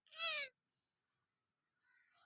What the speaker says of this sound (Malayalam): ഇതാണ് നമ്മുടെ പൂച്ച.